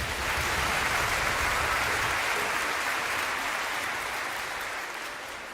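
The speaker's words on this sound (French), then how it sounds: "On peut l'applaudir." An audience applauds after a Peter and the Wolf flute solo, dense steady clapping from a concert hall crowd that holds loud and full and then slowly thins and fades toward the end.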